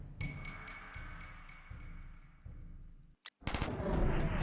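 Gunfire in the game The Henry Stickmin Collection crackles in quick rhythmic bursts, followed by a couple of louder, sharper blasts near the end.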